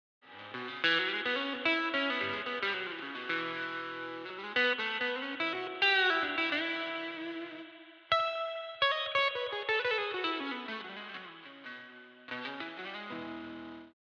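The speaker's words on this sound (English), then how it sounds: "This next patch is the SFX Lo-Fi." Clean guitar chords and arpeggios pass through a Boss RV-500 pedal's SFX Lo-Fi reverb patch, sounding gritty and bit-reduced with a washy tail, played in several phrases with pauses between, alone and up close.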